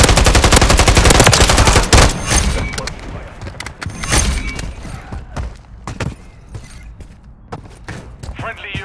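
Automatic rifle fire in Call of Duty: Modern Warfare III on the Scrapyard map, likely the SVA 545: rapid sustained bursts at first, then scattered sharp shots and thuds, loud and close, under game voice callouts.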